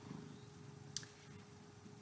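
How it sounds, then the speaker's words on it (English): A cat purrs softly and steadily close by, quiet and low, with a single brief click partway through. "if you can hear him purring, that is who it is"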